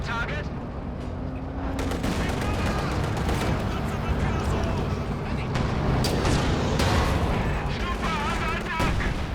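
Werfer rocket artillery barrage in Company of Heroes 2, a dense, continuous rumble of blasts and crackling impacts with scattered gunfire, steady and loud throughout, a voice commenting over it.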